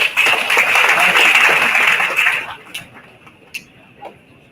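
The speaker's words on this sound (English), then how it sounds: "Please welcome them with a huge round of applause." Loud audience applause at a corporate panel event that fills the first half, then tapers off into sparse scattered claps and a few isolated taps in a quieter room.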